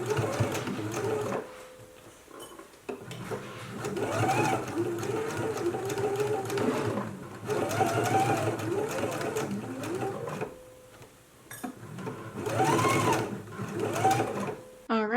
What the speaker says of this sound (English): we can go ahead and do a stitch in the ditch all the way around the waistband